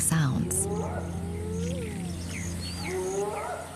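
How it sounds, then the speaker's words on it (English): Wild hyenas on the African savanna near a lion kill, calling with rising and falling whoops and eerie glides heard at a distance against a steady low background rumble. "Unfamiliar hyena calls."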